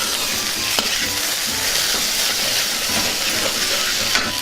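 Boiled, peeled and cut taro root pieces stirred in a pan as they fry, a steady loud sizzle and hiss with faint scraping of the spoon, continuous and close.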